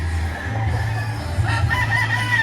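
A gamefowl rooster at a gamefarm crows once at moderate distance, its call rising and drawn out, with other chickens faintly clucking behind a low hum.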